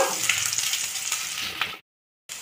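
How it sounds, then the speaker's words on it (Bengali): Chopped ginger sizzles in hot oil in a pan, a steady broadband crackle close up, then a sudden cut to silence before the sizzle returns briefly. "এই তেলের ওপর আবার আদা কুচিগুলো দিয়ে দিলাম, দিয়ে একটু ভাজা ভাজা করে নেব"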